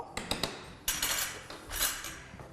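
A spoon stirring béchamel sauce of flour and milk in a pot, with a few sharp metallic clinks against the sides followed by scraping, swirling strokes, close and moderately loud, no voices.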